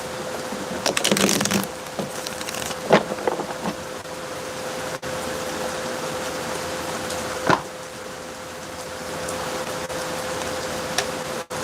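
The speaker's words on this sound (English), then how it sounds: "I always feel like it's fresher air too whenever it rains." Steady rain falls outdoors on a summer day, a continuous wash of patter with scattered louder drips and taps, close and moderately loud throughout, with no one talking.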